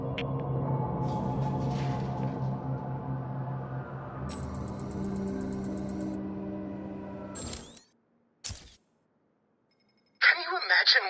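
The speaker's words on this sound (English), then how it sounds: "Find my phone, Batman" In the video game Batman: Arkham City, a telephone rings in bright, repeated electronic bursts over a low, droning game soundscape. Brief silence follows, then another ring.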